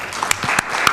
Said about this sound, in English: Bathika, you deserve a lot of applause